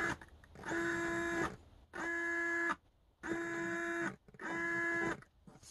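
A hobby servo motor modified for continuous rotation whirs in four separate bursts of whining motor tone, each about a second long, with short quiet gaps between them.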